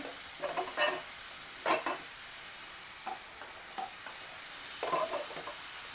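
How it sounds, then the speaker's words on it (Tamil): Sliced onion is stirred into a chicken pepper gravy in a pan, giving a soft, steady sizzle broken by several distinct scraping stir strokes at irregular intervals, with no talking. "ஒரு மீடியம் சைஸ் பெரிய வெங்காயம் இதை வந்து நான் ஸ்லைஸ் பண்ணி வச்சுருக்கேன் அதையும் ஆட் பண்ணிக்கிறேன்"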